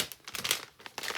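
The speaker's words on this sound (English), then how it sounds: "you're hearing a little bit of packaging crinkling and stuff" Packaging crinkles in short, rustling bursts close by during cleanup in a scrapbooking space, irregular and fairly soft.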